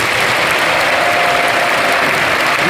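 An audience at a church assembly in Seoul claps steadily and loudly throughout, a dense, continuous wash of applause with no pauses.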